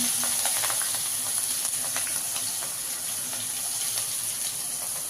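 Green chillies, ginger and curry leaves fry in hot oil for masala dosa filling, giving a steady close hiss with scattered crackles and pops throughout.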